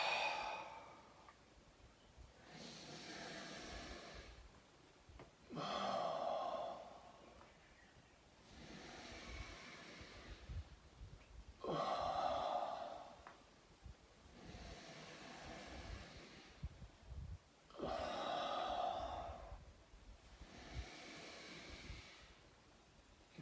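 Slow, deliberate breathing-exercise exhales repeat about every six seconds, each a close, airy whoosh of breath, separated by quieter inhales and soft rustling, with no talking.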